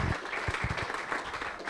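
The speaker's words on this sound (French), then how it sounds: "je pense qu'on peut faire un tonnerre d'applaudissements pour nos deux intervenants" An audience at a decentralized finance meetup gives a round of applause, with continuous, moderately loud clapping heard throughout from a room full of people.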